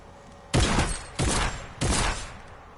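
Three loud shotgun blasts from a video game ring out at an even pace, each a sharp broadband crack with a short decaying tail, over a low background hum and with no talk.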